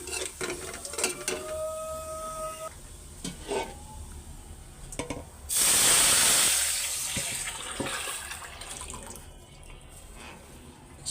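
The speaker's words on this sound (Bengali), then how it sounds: "ডালটা আমি এখন বাগার দিন দিচ্ছি। এখানে রসুন আর পাঁচফোড়ন দিছি, সাথে একটা শুকনো মরিচও দিয়ে দিছি।" Garlic, panch phoron and a dried chili hit hot oil to temper cooked dal, giving a sudden loud hissing sizzle midway that fades gradually, with stirring and clinks of a pot before it.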